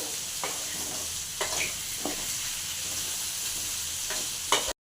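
Fried okra with salt and turmeric is stirred in a pan, giving a steady hiss of frying broken by about five scraping strokes of the spoon; close and moderately loud, with no talk.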